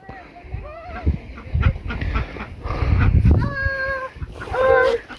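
Ducks quack and honk repeatedly amid other fowl, with people talking and outdoor rustling throughout.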